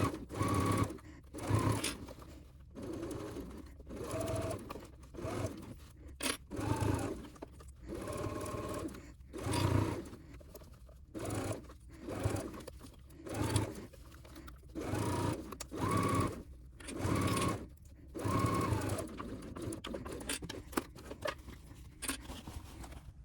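A sewing machine stitches the lining of a crossbody bag in repeated short bursts separated by brief pauses, close by and fairly quiet, with no talking.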